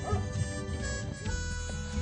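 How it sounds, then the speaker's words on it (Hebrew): A dog gives a few short, yipping barks within a dense, noisy outdoor scene in Hebron. "זה כלב"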